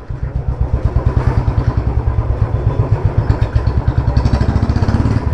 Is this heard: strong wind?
no